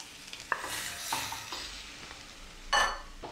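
Roasted butter potatoes are stirred in a sizzling pan, with soft scraping strokes and a few clinks of the spoon over a quiet background sizzle, ending in a louder scrape.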